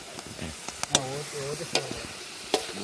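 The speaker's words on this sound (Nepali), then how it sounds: "भुट्टा भुट्दै हुनुहुन्छ" Corn roasts over a campfire at a wild riverside campsite in Nepal, with sharp crackling pops from the fire breaking through faint sizzling while voices talk nearby.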